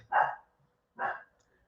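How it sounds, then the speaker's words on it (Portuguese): A dog barks twice indoors, two short, sharp, moderately loud barks about a second apart with quiet between them. "Resolveu latir agora."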